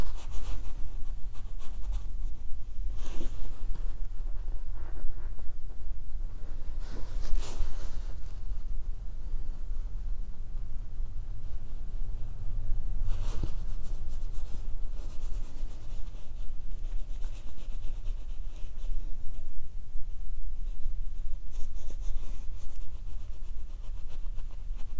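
Close, continuous rubbing from a reflexology foot massage, with a soft gritty grinding texture and a few louder scuffs, steady throughout with no talking.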